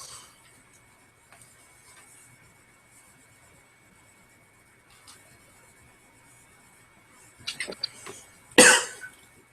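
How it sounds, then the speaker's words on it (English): A single sharp cough rings out near the end, preceded by a few quieter rustles and small throat or mouth sounds against an otherwise hushed room. "That was a cough."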